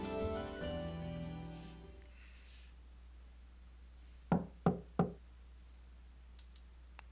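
Three quick, firm knocks on a door in the video game Trails of Cold Steel ring out after a fading musical chime, then a couple of faint ticks in near silence.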